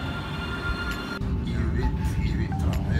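Tram rolling on rails in Amsterdam heard from inside, a steady low rumble with a sharp jolt partway through as it gets going, under a murmur of passengers talking.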